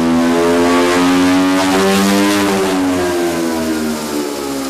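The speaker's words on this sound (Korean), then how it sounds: "자, 볶은 옥수수를 이번엔 갈 차례입니다." An electric grain mill grinds roasted corn in Malawi, giving a loud, steady motor whine with a rough grinding texture that runs continuously and sags slightly in pitch near the end.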